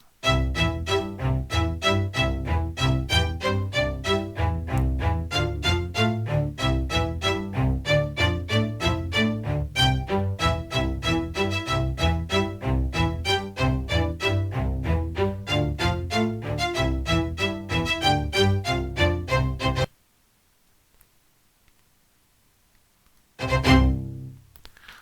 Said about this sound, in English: this is the raw sounding of the orchestral strings from the Logic stock library